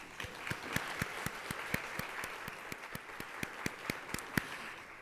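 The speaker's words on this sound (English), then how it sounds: "let's give all of those partners a round of applause" A round of applause at a Columbus Metropolitan Club event about fashion innovation, heard as a modest, fairly quiet audience clapping with distinct nearby hand claps standing out over the steady patter.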